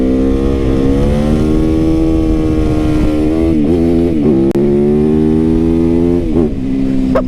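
Supermoto motorcycle engine held at high revs, a loud close buzzing drone that rises and dips with throttle blips as the rider goes for a wheelie, with no voices.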